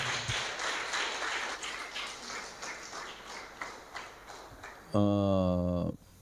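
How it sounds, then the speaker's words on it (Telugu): A church congregation at a Sunday service claps together in praise, a steady dense wash of applause filling the room for about five seconds before a loud sustained harmonic tone briefly takes over at the end. "అందరం ఒకసారి చప్పట్లు కూడా దేవుని స్తుతించండి."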